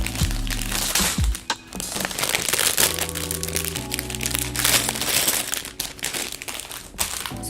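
Crinkly plastic bag of LEGO pieces from a Moon Lander set being torn and opened, a loud continuous crackling and crunching close up that runs the whole time with no talk.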